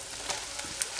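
Beef for spicy beef jerky fries in a wok with a quiet, steady sizzle, broken by a few faint crackles and scrapes.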